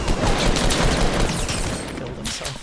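A rocket fires in the Fortnite video game amid a dense, continuous barrage of booming blasts and gunfire, loud and close throughout.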